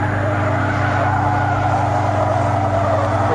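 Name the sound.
car tires squealing during oversteer at the limit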